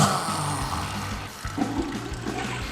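A toilet flush sound effect rushes and gurgles continuously, a loud churning of water with a trickling tail, heard alone without speech.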